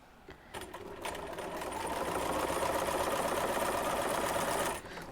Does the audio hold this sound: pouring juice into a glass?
no